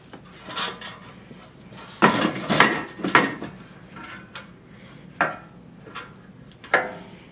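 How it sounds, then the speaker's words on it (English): Metal levers on an Artillian tool rack flipped down in a few sharp clacks and knocks, close and fairly loud, with scattered quieter handling rattles between them and no talk. "we can put it all the way out here at the end and flip these levers down"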